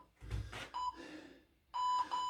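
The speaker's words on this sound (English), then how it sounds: "Waiting for these beeps, here they come" A workout interval timer sounds during a physical education session of one-leg squats, with two short high beeps, a pause, then a longer beep and a quick final one, faint amid light background noise.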